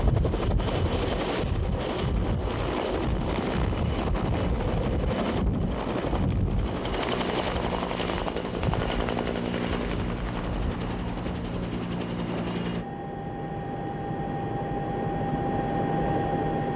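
A helicopter fitted with dust sampling equipment flying over the Korean peninsula, its loud rotor and engine roar steady and close, mixed with heavy wind rush, shifting to a more even whine near the end.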